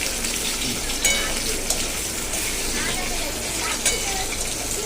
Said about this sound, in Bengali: এই দেখো আলু ভাজা হচ্ছে